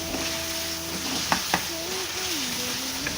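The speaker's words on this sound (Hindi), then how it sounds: "अदरक लहसुन के साथ भी चिकन को हम 3 से 4 मिनट के लिए भून लेंगे।" Chicken frying with ginger garlic paste in a pan for a palak chicken dish: a soft, steady sizzle under a sustained tonal hum, with a couple of brief stirring clacks, close but fairly quiet.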